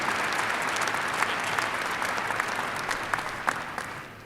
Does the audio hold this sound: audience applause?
yes